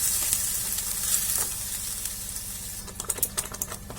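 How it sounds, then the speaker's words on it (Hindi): Paneer masala sizzles steadily in a hot pan as a spoon stirs it, and scraping clicks grow busier toward the end. The frying is close and loud, with no voices. "इसे चला लेंगे।"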